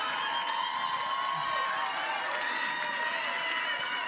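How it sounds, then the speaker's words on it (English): Crowd at an election night speech for Senator Tim Kaine's re-election claps and cheers, a moderately faint, steady wash of applause heard from some distance with scattered voices mixed in. "Give Corinne a round of applause."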